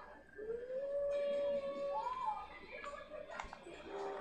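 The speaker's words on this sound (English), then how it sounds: "poor dog" A dog howls in the Skyrim video game, one long rising and falling wail followed by a shorter second howl, moderately quiet over soft game ambience with faint background sounds.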